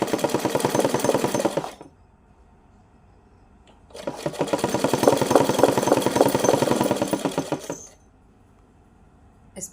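Sewing machine stitching a small doll's dress for a Laddu Gopal idol, two long bursts of rapid mechanical clatter separated by pauses, with a short start at the end, close and alone.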